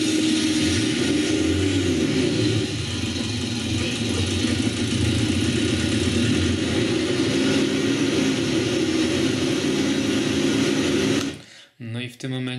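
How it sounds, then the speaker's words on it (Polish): A steady, rumbling Nissan diesel engine idles continuously at close range, warmed up, then cuts out abruptly near the end. "I w tym momencie ten silnik sobie chodzi, on jest na pewno rozgrzany"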